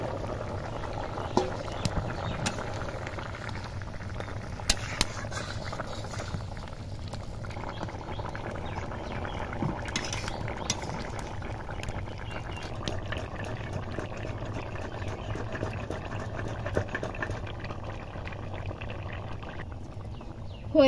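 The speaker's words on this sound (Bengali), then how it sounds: "ঝোল ফুটে গেছে, এবার মাছ দেব।" Fish curry broth boils in a pot on the stove, a soft continuous bubbling with occasional pops and clicks, fairly quiet and close.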